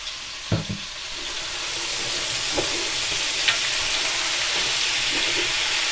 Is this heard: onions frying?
yes